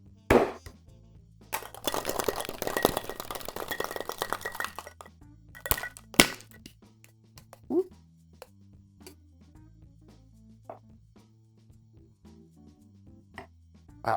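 Blue curacao cocktail shaken with ice in a shaker, a dense burst of rattling ice early on, then scattered clinks and knocks at close range with quiet stretches between them.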